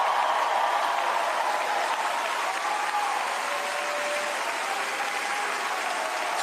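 Steady, dense applause from a large audience at a vigil, sustained at an even level throughout with no voices standing out.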